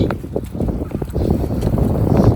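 Strong wind buffets the microphone in low, rumbling gusts, steady and close throughout with no voices.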